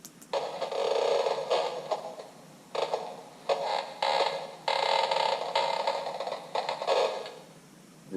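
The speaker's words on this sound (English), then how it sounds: "This is creaking floorboards." Creaking floorboards from a Halloween haunted sound effects box, played as a run of loud, drawn-out wooden creaks and groans in several bursts separated by short pauses, with no talk.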